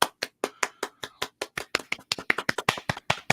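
A few people clap by request during a weekend preview stream, crisp, separate hand claps in a loose, quickening rhythm, close and fairly loud with no talk.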